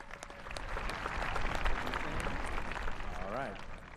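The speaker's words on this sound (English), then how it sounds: "We can give them a loud round of applause." A high school commencement audience applauds loudly, a broad, continuous wash of clapping that holds steady for several seconds. A voice cuts in briefly near the end.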